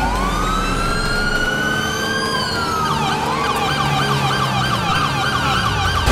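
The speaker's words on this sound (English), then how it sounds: "how could you have your siren on and stop at the red light?" A police car siren in the GTA 5 video game: a long rising wail, then a fast repeating yelp. It is loud and close, with engine rumble beneath and no talking.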